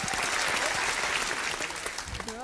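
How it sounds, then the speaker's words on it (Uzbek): Dense, even applause rises from the studio audience of a TV game show and holds steadily throughout, with no talk over it. "olqishlaringiz"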